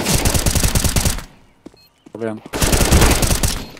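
Rapid automatic gunfire in CS:GO on the de_cache map comes in two loud bursts separated by a short quiet gap, and someone speaks briefly in the middle.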